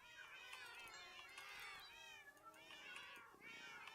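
A herd of cats in the Minecraft video game meowing continuously, many overlapping mews layered densely together at close range, with faint game ambience underneath.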